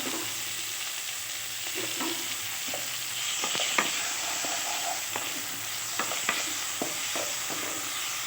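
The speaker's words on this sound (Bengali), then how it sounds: "এবার এই যে পাতলা পাতলা করে কেটে রাখা টমেটোগুলোও দিয়ে দেবো, দিয়ে বেশিক্ষণ নাড়াচাড়া করবো না" Thinly sliced tomatoes fry in spiced masala for a tengra fish curry, giving a steady, even sizzle with scattered light taps and scrapes from stirring, close and without talk.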